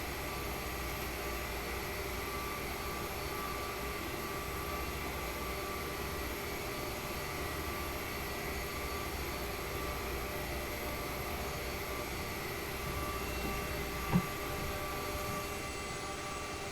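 Steady, even drone of a CRJ 550 regional jet's engines in a flight simulator game, heard near a runway on a Denver to Aspen flight; a faint, constant hum throughout with one brief click near the end and no voices.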